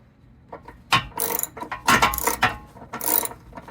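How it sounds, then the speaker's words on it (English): A ratchet spinning off bumper-beam nuts on a 2019 Subaru Ascent, several quick bursts of clicking pawl strokes separated by short pauses, close and crisp with no voices. "Those are those 4 nuts that I am unscrewing"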